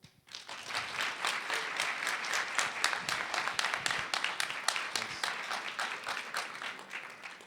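An audience at a youth session applauds for a speaker, dense steady clapping that starts abruptly and holds at an even level for several seconds before tapering slightly.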